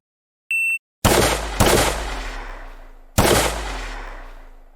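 Three loud, close gunshots from a shooting video game in development, each a sharp crack with a long decaying tail, preceded by a brief electronic beep; no talking.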